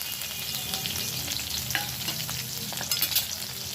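Garlic and ginger paste sizzling loudly in hot oil in a pan, a steady dense crackle with stirring scrapes throughout, no voices.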